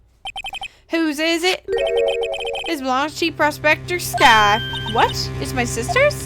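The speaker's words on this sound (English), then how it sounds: "I heard a phone ring just now." A phone ringtone rings in a video game investigation scene, a bright repeating electronic melody heard close and loud, with a short chime at the start and a person talking over it.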